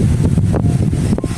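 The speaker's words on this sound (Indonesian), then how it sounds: "Ini angin kencang nih" Strong wind gusts across a bridge during a stormy spell, roaring and buffeting the microphone in loud, uneven bursts with brief lulls between them.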